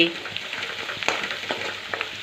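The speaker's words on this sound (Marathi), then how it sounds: "हळद आणि कोथिंबीर आपल्याला छान तेलामध्ये परतून घ्यायची आहे" Turmeric and coriander sautéing in hot oil for a tempering in a Maharashtrian mung dish, with a close, steady sizzle marked by small pops and crackles as the mixture is stirred.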